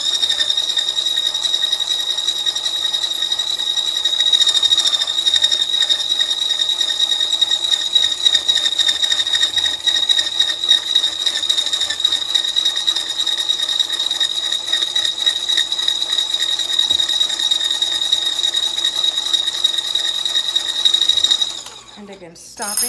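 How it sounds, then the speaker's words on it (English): Pastry cream mixture is whisked in a bowl until light and fluffy, a fast continuous rhythmic ticking and swishing that stays loud and even for about twenty seconds before stopping abruptly. "Now we're gonna whisk this until it becomes like a lemony color and very light and fluffy."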